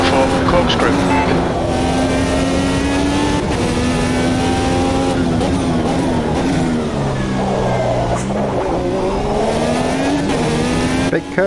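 Indycar-style race car in Automobilista 2 braking hard into the Corkscrew, a loud steady engine note dropping in pitch as it slows, with a voice talking over it.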